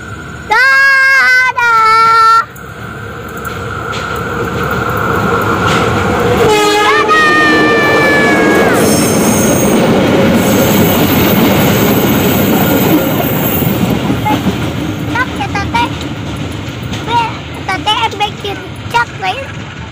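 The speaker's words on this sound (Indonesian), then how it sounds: "kereta api luar biasa atau KLB-nya sudah lewat di sekitar sini" A loud horn sounds in bursts, then a special passenger train rumbles steadily past close by with rattling wheels and occasional squeals, while people talk and call out nearby.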